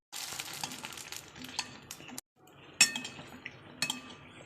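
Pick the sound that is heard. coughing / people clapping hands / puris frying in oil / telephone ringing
puris frying in oil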